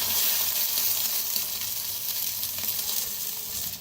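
Two eggs frying in a hot pan, giving a steady, loud, close hiss and crackle of sizzling oil that continues without a break from start to finish, with no talk.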